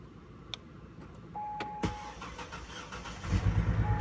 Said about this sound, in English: Start the car and look underneath the front of the engine